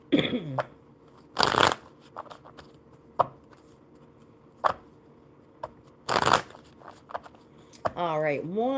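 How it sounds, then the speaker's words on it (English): Playing cards get two quick riffle shuffles at a live card-reading session, each a short crisp fluttering burst, with a person talking in between and afterward. "one good shuffle for Marley."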